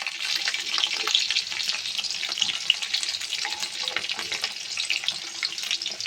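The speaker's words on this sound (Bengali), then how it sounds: "তেলের মধ্যে দিয়ে দেবো গোটা শুকনো লঙ্কা, তারপরে দিয়ে দেবো তেজপাতা, তারপরে একে একে দিয়ে দেবো পেঁয়াজ কুচি" Dried whole chillies, bay leaf and chopped onion sizzle and crackle in hot mustard oil, a steady close frying hiss with scattered pops and occasional stirring scrapes, no voices.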